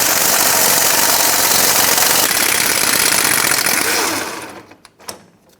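A power tool on a 14mm socket buzzes steadily and loudly while removing the rear shock bolt on a 2009-2014 Honda Fit, then stops, followed by a few metallic clinks.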